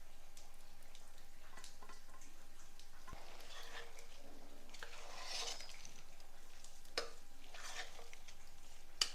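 Boiled khichdi being stirred into a tempering in a pot on a gas stove, quiet soft sizzling with occasional spoon scrapes and light clinks against the pan, no talking.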